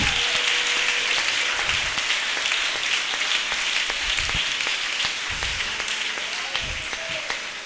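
A church congregation applauds together, a dense steady roar of many hands clapping that fills the whole stretch and slowly eases toward the end.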